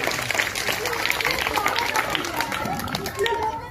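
Classroom applause for a student named Nandini, a burst of children's clapping with scattered chatter and voices mixed in, moderately loud and continuous.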